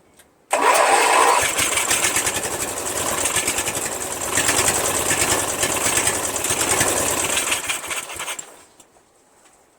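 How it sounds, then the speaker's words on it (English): An engine with no compression in one cylinder is cranked over by its starter, a loud rapid whirring churn that starts abruptly, runs steadily for about eight seconds, then winds down to silence. "Let's give it a crank."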